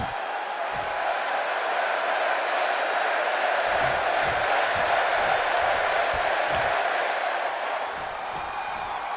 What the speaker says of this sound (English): The crowd is on their feet for Jey Uso.